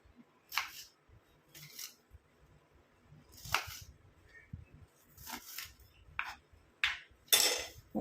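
A knife chopping a peeled onion into small pieces on a board, with sharp, irregular cuts, some spaced apart and some in quick pairs, close and fairly quiet.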